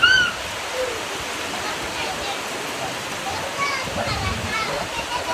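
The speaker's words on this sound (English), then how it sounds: "Yeah, it's spitting out some serious water." Water pouring heavily from a hole in a roof gutter into a collection container at an off-grid homestead, a steady rushing splash throughout with voices talking over it.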